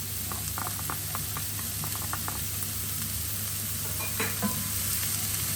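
Garlic and chili sizzle steadily in a hot pan while making a vegetable and bean minestrone. The frying crackle is close and constant, with a few sharper pops and light stirring scrapes along the way.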